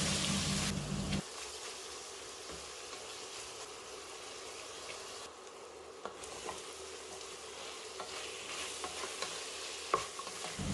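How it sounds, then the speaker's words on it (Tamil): Mutton pieces with turmeric and salt sauté in oil in a pan, a soft continuous sizzle broken by stirring scrapes and small crackling pops; a louder burst of frying opens before it settles into a quieter hiss. "மட்டன் எண்ணெயில் வதங்கி லேசாக கலர் மாறி வரும்."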